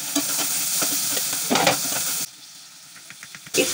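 Salted shrimp frying in a pan hiss loudly while being stirred, with scraping strokes over the sizzle. The noise drops to a quieter simmer for about a second before flaring up again, with no talk.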